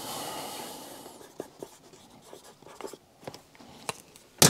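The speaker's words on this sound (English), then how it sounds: "I'll make sure I rewrite my zip code on there." A pen writes a zip code onto a package, soft, close scratching strokes in short irregular bursts, quiet and without speech, ending in a louder knock.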